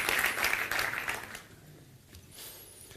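An audience applauds for about a second and a half, then the clapping fades out into quiet room tone.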